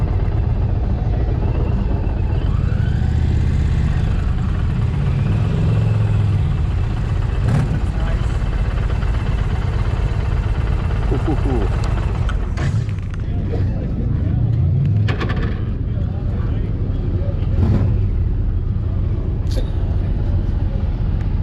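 Engine of a 2020 Indian Challenger Darkhorse motorcycle running steadily through a demo ride, a continuous loud low rumble with some wind noise and occasional knocks, while people talk over it.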